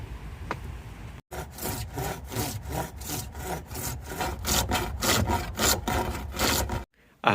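Handsaw cutting through wood for a rotating martial arts training post: steady, rhythmic back-and-forth rasping strokes, close and loud, about a dozen strokes running continuously after a brief pause, then a sudden stop.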